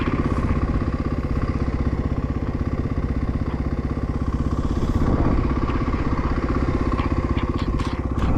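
A motorcycle engine runs steadily nearby on an abandoned stretch of old highway, its fast ticking pulse sounding like typing, continuous and fairly loud with slight swells in level throughout.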